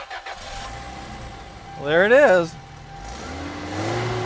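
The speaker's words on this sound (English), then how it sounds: "first start in the Previa." A Toyota Previa's mid-mounted engine, sitting beneath the driver's seat, cranks and catches, then gives one short rev that rises and falls before settling back to a steady idle. People speak nearby before and after the start.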